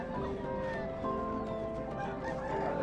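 Roosters and chickens, mostly mixed fighter breeds, at a crowded rural poultry market, with steady clucking and crowing calls over a dense, continuous crowd din.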